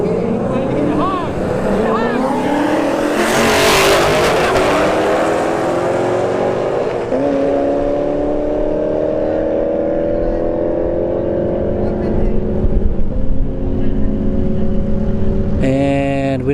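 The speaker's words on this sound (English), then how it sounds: "S197 Mustang right lane, 5th gen Camaro SS in the left lane" A Ford S197 Mustang and a fifth-generation Chevrolet Camaro SS drag race side by side at a test-and-tune strip, engines roaring loud and near with rising harmonic tones as they launch and pull away, a brief sharp burst near the end.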